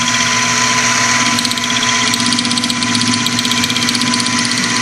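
A metal lathe turns a model steam engine crankshaft blank, taking a 50 thou cut with cutting fluid, producing a steady loud mechanical hum and drone with fine rhythmic chatter throughout.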